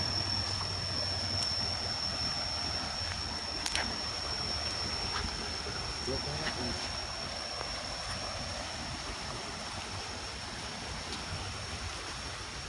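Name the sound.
swift-flowing river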